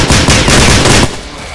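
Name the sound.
burst gunfire in video game STALKER: Clear Sky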